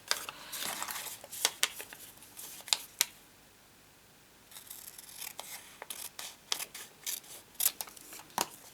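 Scissors snipping through folded card stock for a swing fold card, a quick run of sharp close clicks and cuts, a brief pause, then more irregular snips and paper handling, with no talking.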